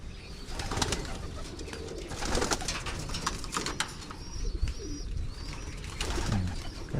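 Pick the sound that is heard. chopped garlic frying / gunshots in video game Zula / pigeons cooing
pigeons cooing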